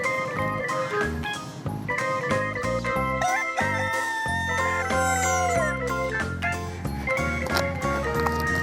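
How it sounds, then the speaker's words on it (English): A red and black rooster crows over continuous, busy background music that fills the whole stretch and stays loud throughout. "Rooster. Red and black color rooster."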